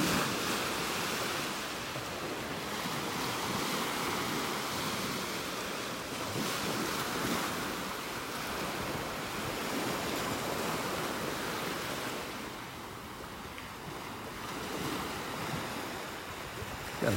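Ocean waves wash onto a beach in North Naples, Florida, making a continuous broadband surf roar with some wind buffeting the microphone. The swells rise and ease gently and nobody speaks.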